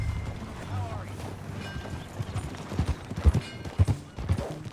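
Horse hooves clip-clopping in Red Dead Redemption 2, a run of irregular close thuds growing louder toward the end over a low ambient rumble, with faint game sounds in the background.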